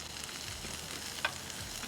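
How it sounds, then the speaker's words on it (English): Onion pieces sizzle on a Ninja Woodfire grill, a steady soft crackling hiss with a brief sharper pop partway through, close and unbroken with no voices. "We'll let these sizzle up for a little bit, and then we'll get that meat on there."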